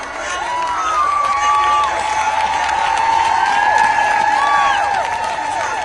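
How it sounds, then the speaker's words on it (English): Crowd applause at an abortion rights rally in Washington, a sustained wash of clapping with cheers and whoops rising over it, loud and steady from start to finish. "Give our organizers a round of"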